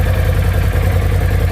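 Polaris RZR Pro XP fitted with an Evolution Powersports exhaust idles steadily up close, a deep, pulsing low rumble that holds even and loud with no talk.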